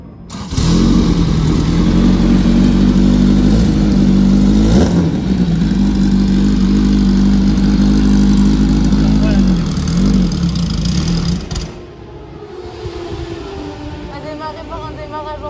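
Historic Lotus race car engine at a French historic Grand Prix, loud and close, running rough with revving swells for about eleven seconds before cutting to a quieter idle with faint background noise.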